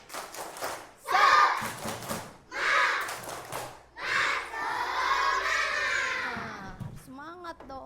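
A group of children performs the tepuk semangat clap-and-shout cheer in a classroom, rhythmic bursts of clapping and chanted shouts in several loud phrases, ending with a voice rising in pitch.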